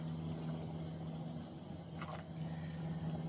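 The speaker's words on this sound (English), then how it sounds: "aggressive boiling water, and we're just going to throw these in like so" Fava beans drop into aggressively boiling water, a soft splash and bubbling over a steady low hum, faint and close, with no talk.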